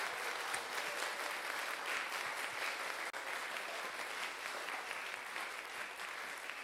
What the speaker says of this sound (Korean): 창작 국악 앙상블 그림의 훌륭한 연주에 한번 뜨거운 격려의 박수를 보내주실까요